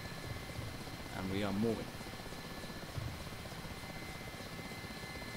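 Mi-8 helicopter taking off in the DCS flight simulator, a steady rotor and turbine drone running throughout, with someone talking over it.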